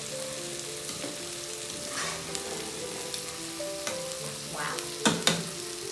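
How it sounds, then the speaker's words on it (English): Carrots and cabbage frying in a pan give a continuous sizzle with stirring clatters and scrapes that grow busier toward the end, heard up close beneath a faint background hum. "We'll let that just begin to cook those carrots. And then we're going to add in our cabbage."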